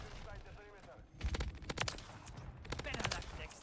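Rapid gunfire from the AMR9 in the video game Modern Warfare 3 cracks in a quick cluster of shots amid other in-game battle noise, moderately loud and close.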